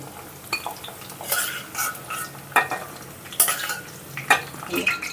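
Drumstick pieces frying in oil for a tomato curry, a soft sizzle under intermittent clinks and scrapes of a metal spoon turning them in the pan, close and irregular.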